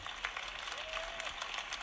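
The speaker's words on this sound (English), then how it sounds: "Let's give them all a round of applause" Applause for game developers at a press conference, a steady, fairly faint wash of many hands clapping heard at a distance.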